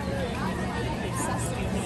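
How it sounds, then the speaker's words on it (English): A crowd at Epcot chatters all around, a dense, steady babble of many overlapping voices close by with no single voice standing out. "We just walked into a crowd,"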